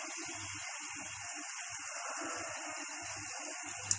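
Golgappe frying in hot oil, a steady hissing sizzle with soft bubbling, close and even, no voices.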